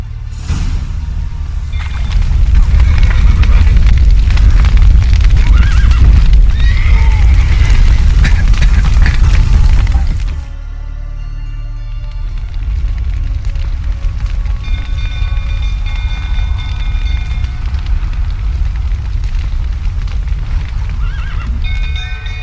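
Horses neigh and whinny in a burning stable in The Witcher 3 video game, loud and agitated over a rumbling fire, then quieter whinnies with hooves clip-clopping follow after a sudden drop midway.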